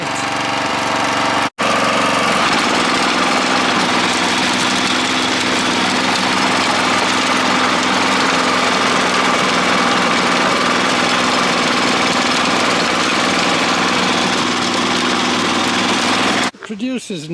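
A neglected Honda F810 rotavator engine running loud and close, a steady rough single-cylinder drone with tilling vibration that holds for the whole stretch after a brief dropout near the start.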